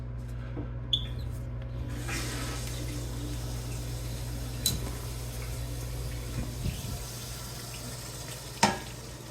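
Water runs steadily and quietly as an OVE OVO toilet tank refills, a continuous low hiss with a few faint clicks and taps.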